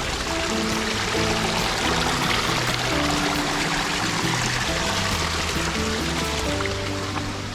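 Cold mountain stream water rushes near a waterfall at Kakkayam in Kerala. The flow is a loud, continuous, close-up gush with no pauses and no voices.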